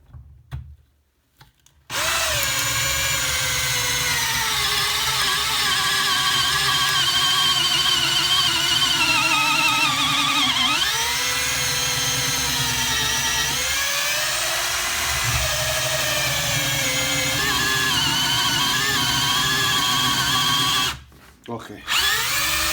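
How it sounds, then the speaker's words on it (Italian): ENKHO professional cordless hammer drill with hammer action off, driving a 16 mm bit into a piece of fir wood: a loud, steady motor whine with grinding bite for about twenty seconds, briefly dipping in pitch mid-bore, then stopping. "proviamo allora questa punta da 16 mm su questo pezzo di legno di abete"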